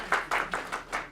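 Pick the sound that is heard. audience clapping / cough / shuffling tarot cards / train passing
audience clapping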